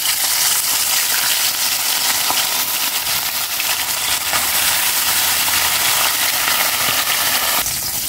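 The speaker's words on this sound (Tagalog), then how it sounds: "Iprito ko na po itong tilapia." Steady, dense sizzling of tilapia frying in hot oil, loud and continuous throughout with crackling pops and no voices.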